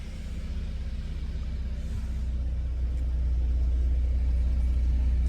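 Low, steady engine rumble and road noise from inside a 1994–1998 Saab 900 driving on a Florida road, building slightly as it gets under way, with no talking.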